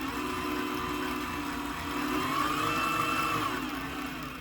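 A Weber Workshops Key coffee grinder runs at a higher RPM with a steady, close whirring whine whose pitch lifts briefly midway before settling, with no talk over it.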